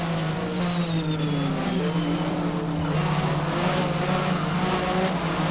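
Porsche Super Cup race cars in the Race07 game, running a Mobil 1 race at Brno, give a loud, steady engine drone whose pitch slides gradually as cars run close together, with no pauses.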